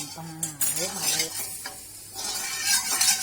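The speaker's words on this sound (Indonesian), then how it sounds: "panaskan wajan, terus kita beri minyak" Oil sizzling in a hot wok, a steady hiss with a few metal clinks of a utensil against the wok, and brief voiced sounds early on.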